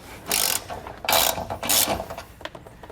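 A wrench ratchets in three quick bursts, tightening bolts on a Lippert scissor stabilizer jack, each burst a close, sharp clicking rasp with short pauses between.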